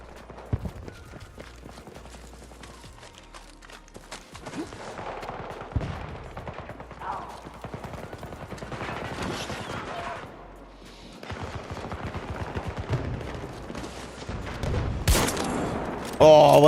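Battlefield 6 gunfire crackles through a busy match, bursts and single shots repeating near and far under a steady battle din, growing louder toward the end while a player talks over it.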